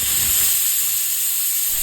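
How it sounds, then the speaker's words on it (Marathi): Steam jetting from a pressure cooker whistle as chicken ukkad soup cooks, a steady loud bright hiss running throughout with a low rumble underneath, no voices. "कुकरचं झाकण लावायचं आहे आणि याच्यात चांगल्या 3 शिट्ट्या काढून घ्यायच्या आहेत"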